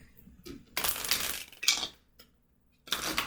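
A deck of tarot cards is shuffled by hand close up. It makes several crisp, rustling, riffling bursts separated by short pauses.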